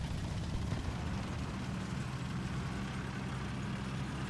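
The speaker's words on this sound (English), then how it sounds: "you know, when you just hear like an idling car engine, it just sounded like that" A car engine idles in the tank game War Thunder as a steady, unbroken low rumble with a broad hiss on top, holding level for several seconds with no speech.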